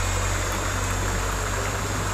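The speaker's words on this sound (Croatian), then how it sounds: "Čujete ovaj žubor vode." A river stream in Seonica, Herzegovina, murmurs in a continuous, even rush of flowing water, loud and close with no pauses.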